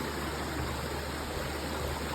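The Kuru stream flows beside the Udamaliboda forest trail near Deraniyagala, a steady, dense rush of water that holds constant and close throughout, with no voices over it.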